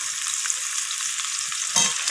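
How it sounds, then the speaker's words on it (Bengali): Sajne drumsticks being stirred and fried with onion in a pan, giving a steady close sizzle with stirring scrapes and a louder burst near the end, no voices. "তো ডাঁটাগুলোকে কিন্তু পেঁয়াজের সাথে একটু নাড়াচাড়া করে ভাজা করে নিচ্ছি।"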